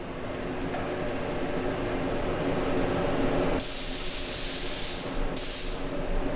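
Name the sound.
spray painting Flare Silver Spectrum custom paint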